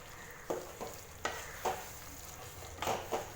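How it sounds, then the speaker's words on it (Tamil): Lemons for a lemon pickle sauté in a pan over a medium flame, with a steady low sizzle broken by five or six scraping stirring strokes at close range. "மீடியம் ஃப்ளேம்லேயே பார்த்திங்கன்னா லெமனை நல்லா வதக்கிட்டு இருக்க பாருங்க"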